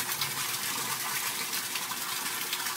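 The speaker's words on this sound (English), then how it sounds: "And finally, it all drains down to the sump tank." Water gushing steadily down into an aquaponics sump tank, a dense, continuous splashing rush close by with no talk.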